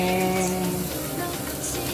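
Butter sizzling and frying in a hot pan, a steady close crackle with a faint tonal hum underneath, no talking.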